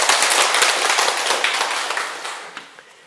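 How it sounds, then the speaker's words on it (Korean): Dense, loud applause from a large audience at a Sunday lecture question-and-answer session. It starts full and strong, then tapers off over a few seconds to a few scattered final claps. "큰 박수 부탁드립니다."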